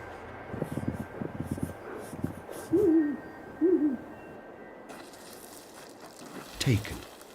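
A snowy owl in the Arctic gives a few low, wavering hoots, two spaced calls followed by a later one, against quiet wind and a narrator talking over the scene.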